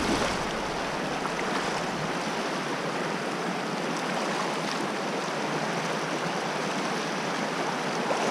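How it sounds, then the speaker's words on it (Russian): River water rushing and flowing around someone wading across a river on the way to Roraima, a loud dense continuous wash close to the microphone, with no talking. "Переправляемся через реку."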